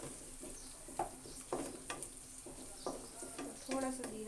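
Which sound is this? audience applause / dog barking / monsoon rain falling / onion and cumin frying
onion and cumin frying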